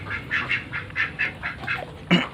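Ducks in a pen quack in a quick series of loud, close calls, roughly eight nasal bursts in an uneven rhythm, with a louder honk near the end and no talk.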